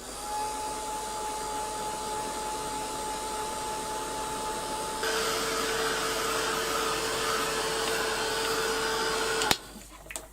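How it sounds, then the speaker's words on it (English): A heat gun blows steadily to dry a craft project, a continuous close whooshing hum that shifts slightly louder midway before cutting off near the end. "I'll give that a quick blast now with the heat gun"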